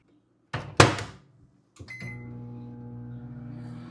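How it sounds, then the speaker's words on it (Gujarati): A microwave oven heats frozen tamarind pulp with a little water: a door thunk and clatter, then the steady low hum of the running oven with a faint high whine, heard alone and fairly close. "એમાં થોડુંક પાણી લઈને માઇક્રોવેવ કરી દેવાનું"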